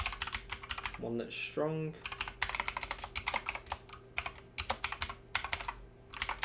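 A password being typed on a computer keyboard, heard as rapid, close clicking keystrokes in uneven bursts, with a brief spoken phrase near the start.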